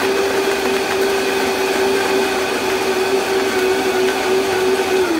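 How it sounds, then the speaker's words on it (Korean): A blender crushing ice for a cocktail, a steady loud motor whine with a grinding texture that holds evenly for several seconds, then drops slightly at the end. "뚜껑을 잘 닫고 8에서 10초 정도 갈아줍니다."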